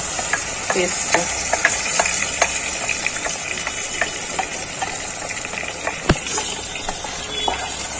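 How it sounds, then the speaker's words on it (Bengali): Spinach, garlic, onion and green chili paste fry in a pan on low gas, a close, continuous crackling sizzle with scattered pops and one sharp clack near the end. "দিয়ে আমি এই যে পালং শাক, রসুন, পেঁয়াজ, কাঁচা লঙ্কা বাটা, এটা আমি দিয়ে দেবো।"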